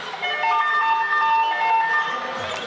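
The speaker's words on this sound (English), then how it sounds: "Can't get the result on the buzzer from Fowler." An arena buzzer sounds at a WNBL women's basketball game between Adelaide and Townsville Fire, a loud, sustained electronic tone that holds steady for a few seconds over the hall's background noise.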